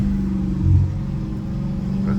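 A straight-piped, catless Hellcat Redeye V8 rumbles loudly up close, its engine note swelling briefly as it revs and then settling back into a steady, throaty drone.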